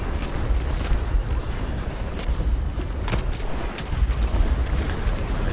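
Artillery shells burst around a Leclerc tank in a tank video game, a dense rumbling barrage with several sharp booms scattered over a continuous low roar, no speech.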